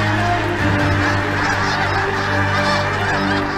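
A dense flock of snow geese honks in panic, a loud, continuous overlapping clamor of many calls close at hand with no pause.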